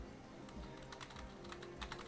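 Rapid clattering keystrokes on a computer keyboard during a combat video game, the clicks coming in irregular bursts up close with no talking.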